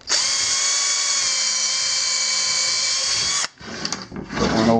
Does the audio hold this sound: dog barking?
no